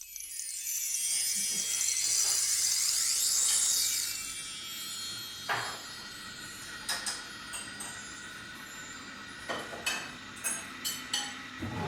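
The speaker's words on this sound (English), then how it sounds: "I hear a drawer opening and closing, a kettle boiling, and some clangs of pots and pans." Kitchen sounds: a drawer slides open and shut, then a kettle rises to a hissing boil, followed by a run of sharp, separate clangs from pots and pans.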